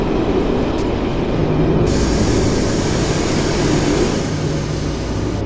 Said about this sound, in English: This train is very loud, I'm telling you, like, very loud